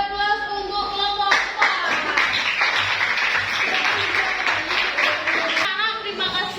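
Classroom applause for a group's presentation, many hands clapping in a loud, dense, continuous burst, with a few children's voices mixed in.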